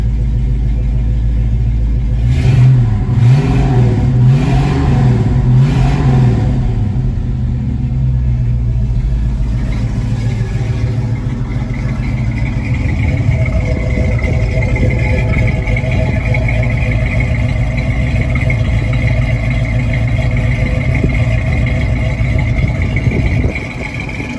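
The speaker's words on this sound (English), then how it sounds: "It's got brand new Flowmaster exhaust." A 1968½ Ford Mustang R-code 428 Cobra Jet V8 breathing through new Flowmaster exhaust gives several quick throttle blips early on, then drops to a deep, loud, steady rumbling idle that carries on for the rest of the stretch.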